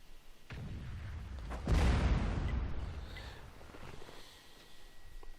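A single heavy cannon blast from a tank in World of Tanks on the Fishermans Bay map, a deep boom with a long rumbling decay, fairly distant and moderate in level amid low battle ambience.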